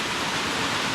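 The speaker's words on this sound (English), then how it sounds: "So I got a big waterfall over there." A big waterfall roars as a steady, dense wash of rushing water, loud and unbroken, with no voices over it.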